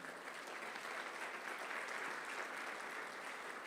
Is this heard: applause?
yes